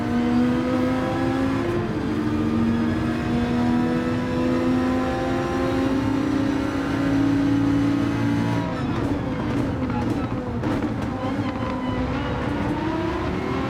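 Race car engine in a racing video game, an Audi, holds a steady loud drone with rising pitch under acceleration, then shifts into a rougher, shifting note as the car slides out of a corner.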